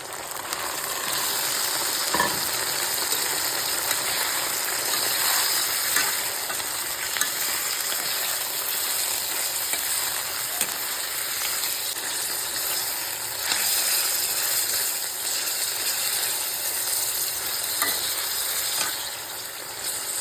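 Chicken frying in a pan with onion and ginger garlic paste, giving a steady, loud, close sizzle with faint stirring scrapes and no talking.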